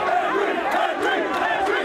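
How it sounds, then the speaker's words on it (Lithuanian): A crowd of rioters in Southampton chants in unison, a loud, dense wall of shouting voices with a rhythmic, repeated cadence from close by. "Vietos Britai stumdosi su pareigūnais ir skanduoja frazę "negaliu kvėpuoti"."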